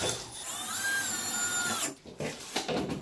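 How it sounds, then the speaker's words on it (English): A power drill whirs steadily at high pitch for about two seconds while installing an over-the-range microwave, then stops, followed by a few short bumps and clicks. "Here's the electric drill, comes in handy."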